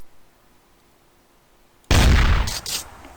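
Video game gunfire in Raze 3 bursts in suddenly after near silence, a loud dense volley of rapid shots that holds for about a second and then tapers off.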